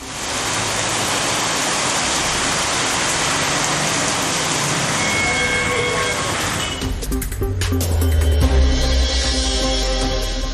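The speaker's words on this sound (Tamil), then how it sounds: "கல்லிடைக்குறிச்சி உள்ளிட்ட பகுதிகளில் திடீரென இடியுடன் மழை பெய்ததால் குளுமையான சூழல்." Heavy rain pours down steadily near Kallidaikurichi during a sudden thunderstorm, a dense close roar that fills the air, with a deeper rumble swelling toward the end.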